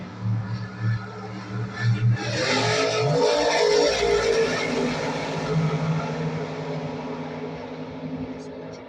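A 1968 Camaro drag racing at zMax Dragway, its engine roaring up loud mid-run then fading into the distance, with a track announcer talking over it.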